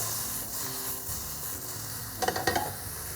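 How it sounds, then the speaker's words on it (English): Vegetables sizzle steadily in a hot skillet, a close, dense frying hiss, broken near the end by a quick clatter as the pan is flipped to toss the food. "you can just give the skillet a flip, like that"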